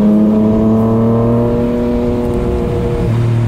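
Yamaha MT-09 motorcycle fitted with a loud aftermarket exhaust, recorded close on the road, a deep steady engine drone with strong throbbing harmonics that dip briefly before settling back to a firm idle-to-cruise rumble.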